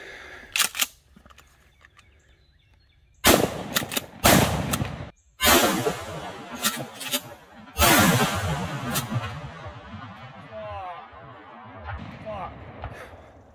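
Mossberg 590 Shockwave shotgun blasts in the game STALKER, several loud booming shots in bursts with echoing tails between them, fired close up.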